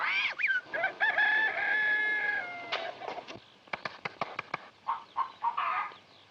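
Hens cluck and a rooster crows close by, with a long drawn crow at the start followed by a run of sharp, choppy clucks and squawks.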